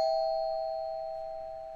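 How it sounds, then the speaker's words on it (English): A doorbell sample played back by a p5.js sketch sounds a single sustained, bright electronic bell tone that rings out steadily and slowly fades, alone with no talk. "now I have my doorbell sound"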